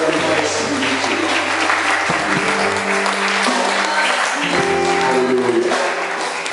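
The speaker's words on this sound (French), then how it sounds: "acclamons royalement l'Esprit de Dieu" A church congregation claps loudly and steadily in a dense, close burst of applause, with music and voices mixed underneath throughout.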